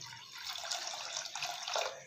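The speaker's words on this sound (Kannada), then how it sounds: "ನೋಡಿ, ಇವಾಗ ಇನ್ನು ಸ್ವಲ್ಪ ನೀರು ಹಾಕ್ಕೊಳತ್ತೀನಿ." Water runs into a pot for boiling pasta, a continuous splashing gush that rises slightly in pitch and intensity as it fills.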